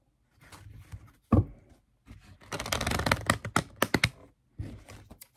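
A tarot deck is shuffled by hand, giving bursts of papery riffling and flicking card sounds in uneven clusters, close and fairly loud, with short pauses between them and no speech.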